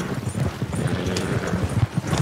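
Steady clip-clop of horse hooves on hard ground in Red Dead Redemption 2, rhythmic and continuous, with a low ambient rumble underneath and no talking.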